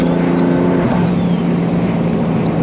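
Interior drone of an MK3 Toyota Supra with a Nashman Motorsports V2.5 short shifter, steady and loud, with the engine note dropping as it downshifts and a constant road roar underneath.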